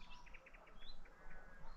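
Birds sing at a campsite on a hot summer morning: faint, repeated short chirps and whistled notes sound at a distance over a quiet, low background hum.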